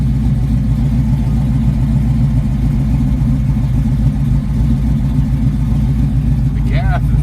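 A Chevrolet Camaro SS/RS 396 V8, about ten years undriven, idles steadily after firing up, a loud, deep, continuous rumble close by with a brief higher whine near the end.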